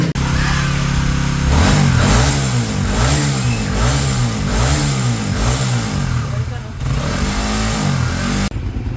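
A motorcycle engine revs loudly and close, its pitch rising and falling in repeated surges before easing off near the end.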